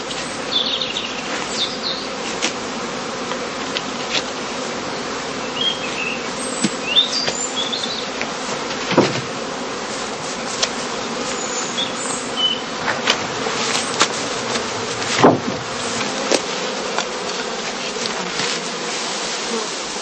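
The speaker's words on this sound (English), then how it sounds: "Second swarm bees are also filled into skeps containing old comb without honey or brood." Honey bees buzz continuously around heather straw skeps in an apiary, a dense droning swarm with occasional louder passes as individual bees fly close.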